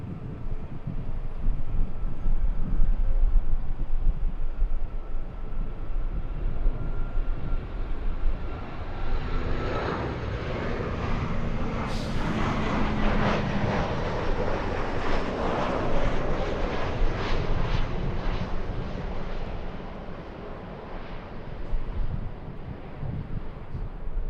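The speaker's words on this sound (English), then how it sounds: "American 2062 flying in from Chicago, Illinois, 3-hour, 35-minute flight." American Airlines jet arriving at LAX from Chicago, a broad roaring engine rumble building and sweeping past over about twenty seconds, with wind noise on the microphone.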